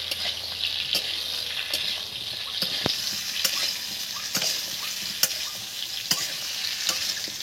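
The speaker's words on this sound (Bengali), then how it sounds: "সামান্য করে লাল লঙ্কা আমি দিয়ে দিলাম। এতে কিন্তু হলুদ ব্যবহার করব না। দিয়ে এটাকে একটু নেড়ে চেড়ে নেব।" Potatoes and pointed gourd with red chili are stirred in a frying pan, giving a steady sizzle broken by sharp scrapes of the spatula at a loose, uneven rhythm, close and fairly loud, with no talking.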